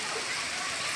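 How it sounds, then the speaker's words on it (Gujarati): Heavy rain driven by strong wind in rural Porbandar district makes a dense, constant hiss of downpour that stays steady throughout. "જોરદાર પવન સાથે મૂસળાધાર વરસાદ."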